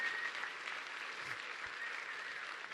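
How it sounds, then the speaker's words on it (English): Sustained audience applause from a crowd, steady and dense throughout, fairly distant and even in level with no speech over it. "So let's give them a big round of applause"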